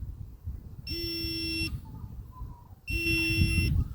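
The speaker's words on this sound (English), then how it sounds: "we'll just move in front of the sensor, and as you can see, it starts triggering" A campsite motion sensor alarm triggers, sounding two long buzzing electronic tones about two seconds apart, each lasting under a second, over a low rumbling background.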